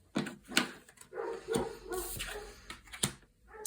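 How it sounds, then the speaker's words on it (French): Several dogs bark and yip in short, uneven bursts close by, with whimpers mixed between the louder barks. "mes amis les chiens sont de retour"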